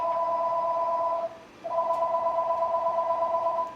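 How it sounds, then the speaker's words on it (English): A telephone rings with a steady electronic two-tone trill, one long ring, a brief gap, then another ring, loud and close with no speech over it. "How rude, the phone."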